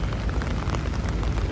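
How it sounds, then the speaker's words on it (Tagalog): Heavy rain from Super Typhoon Carina pours down in a dense, unbroken roar, close and loud throughout with no pauses and no voices. "Tuloy-tuloy pa rin yung ulan."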